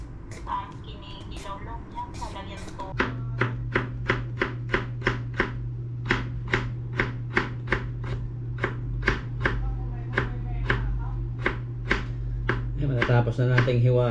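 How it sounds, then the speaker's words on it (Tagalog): A knife chops food on a board in a quick, even series of close knocks, with a low steady hum underneath and a brief stretch of talk at the start. "Matatapos na nating hiwain."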